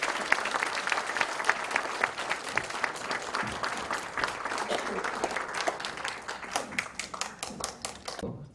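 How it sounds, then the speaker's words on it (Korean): An audience at a lecture event gives sustained applause to welcome a politician onto the stage, a dense, even wash of clapping from many hands throughout. "큰 박수로 모시겠습니다"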